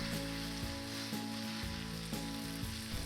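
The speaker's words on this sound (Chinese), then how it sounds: "接着是切碎的泡椒，炒出香味儿" Chopped pickled chili peppers stir-frying in a wok with bean paste, a dense continuous sizzle broken by regular scraping strokes of the spatula roughly every half second, close and loud with no talk.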